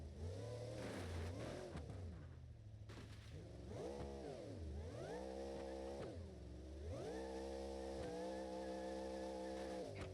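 A Hemi-powered monster truck with a twin screw supercharger in BeamNG.drive revs hard in repeated rising and falling surges, a deep growling engine alone with no talk, loud and close throughout.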